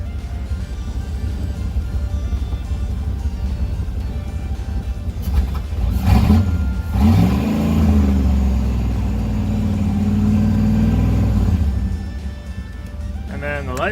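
Chop Top GMC Sierra pickup engine revving up from idle to a rising, sustained roar before dropping back, loud and close, with speech-like tones over the engine.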